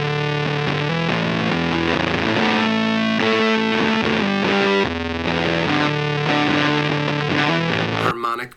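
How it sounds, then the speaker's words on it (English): A Glitch Witch analog auto-modulated logic fuzz pedal gives a guitar a dense, heavily distorted, glitchy tone with stacked octaves and shifting pitches. It plays loud and continuous for about eight seconds, then cuts off abruptly. "Glitch-Witch can produce a wild variety of crazy glitched out effects"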